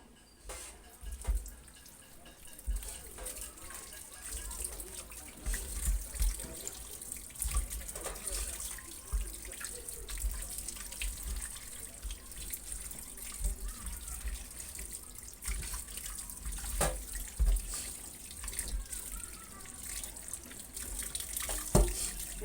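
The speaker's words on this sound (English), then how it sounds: "So I need to wash my chicken." Tap water runs steadily into a sink while raw chicken is washed for a chicken stew, a continuous moderate splashing and trickling stream with occasional drips, close by and alone without talk.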